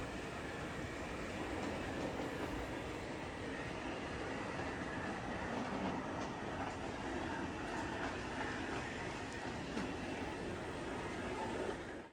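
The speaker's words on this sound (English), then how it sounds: "the trolley passes by the station at the center and then heads over another non-scenic section next to the other doorway" A model railway trolley runs along its track past a station, giving a continuous rumbling, rattling hum with faint clicks, steady and fairly close throughout.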